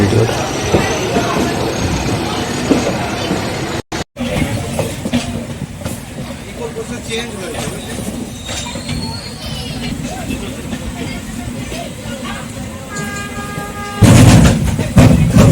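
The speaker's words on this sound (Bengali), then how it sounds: "একসাথে দুটো ট্রেন যাচ্ছে" Two trains pass at once on a rail journey toward Tarapith, a loud continuous rumble of wheels and carriages with clattering and a brief dropout, ending in a sharp burst of rolling noise, with voices faintly beneath.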